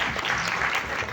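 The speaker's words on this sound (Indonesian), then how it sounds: "Kita kasih tepuk tangan sekali lagi." Audience applause at a film press conference and cast reveal, a dense wash of clapping held steady for about a second with a faint voice underneath.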